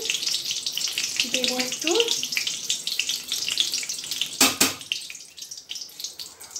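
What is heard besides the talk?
whole spices frying in hot oil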